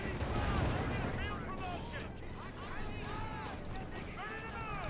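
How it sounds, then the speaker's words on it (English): Cluster bombs bursting in a Company of Heroes 2 match, a dense rumbling barrage of overlapping blasts and crackling fire that runs steadily throughout, with a caster talking over the top. "Cluster bombs."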